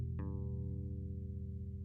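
Open strings on a bass guitar ring on without being muted, a low sustained drone with a brief plucked attack near the start and the tones lingering evenly throughout.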